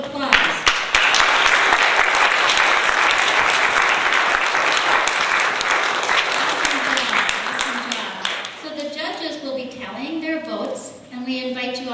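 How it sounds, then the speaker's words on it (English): Sustained applause from an audience at a church talent show fills the hall for about eight seconds, dense clapping that fades out as a speaker begins talking. "A round of applause."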